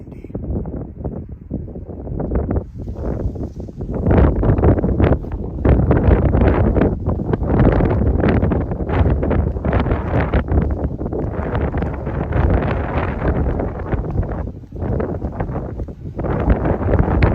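Strong wind at Big Bend in May buffets the microphone in heavy, surging roars that rise and fall almost continuously, loud and close.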